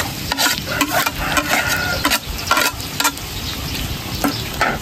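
White onion sizzles and fries in a pan, with a steady crackle broken by repeated stirring scrapes and clatters, close and fairly loud with no talking.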